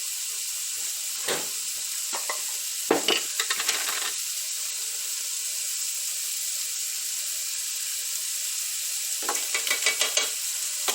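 Vegetables and garlic sautéing in a pot for potato soup, a constant bright sizzle with scattered bursts of scraping and stirring near the start and again toward the end, with no talking.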